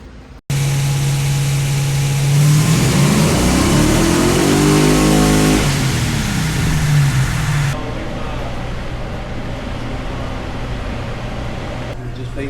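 A 1971 Dodge Sweptline truck engine runs loud and close, revving up in a rising and falling sweep before dropping back to a steady idle hum.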